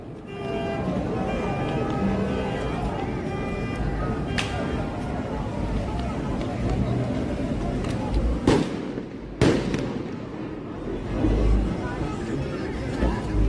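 Rubber bullets and stun grenades fire amid crowd chatter, with scattered sharp cracks and two loud bangs late on, heard under continuous talking voices.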